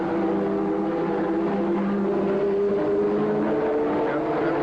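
Formula 1 cars from the 1983 Detroit Grand Prix, led by a Ferrari, race on a street circuit. Their engines make a steady, distant droning whine that rises and falls slightly, under faint commentary.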